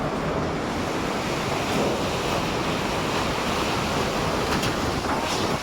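Strong typhoon winds buffet the microphone while high sea waves crash along the shore during Typhoon Tino, making a continuous, loud roar of surf and gusts with no voices.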